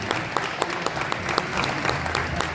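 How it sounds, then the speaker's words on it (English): An arena crowd claps steadily for an injured player getting up during a league game, a dense, even wash of applause with sharp individual claps popping out across the whole stretch. "we have the whole arena clapping him up."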